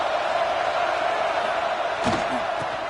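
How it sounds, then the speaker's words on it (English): Stadium crowd at an American college football game fills the air with a steady, loud roar throughout, with a few brief knocks near the end. "listen to this crowd noise. This stadium is vibrating"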